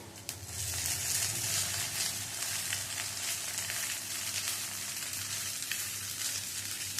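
A flattened rice and grated egg breakfast fries in a pan over a low gas flame, giving a dense, steady, close sizzle with faint stirring underneath.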